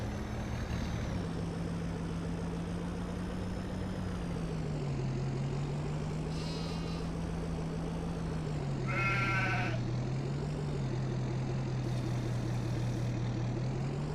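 In Farming Simulator 22, sheep bleat a few times in short, separate calls over a steady, droning engine hum from the game.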